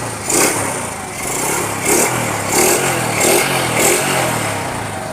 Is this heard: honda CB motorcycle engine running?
yes